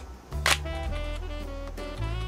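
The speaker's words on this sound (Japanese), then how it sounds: "ライブビューはここの LV ボタンを押すとシャッターが上がって撮影できるようになります" A Nikon D90 digital SLR gives a single sharp, close shutter clack as live view engages, followed by a faint mechanical whir that tails off, in an otherwise quiet room.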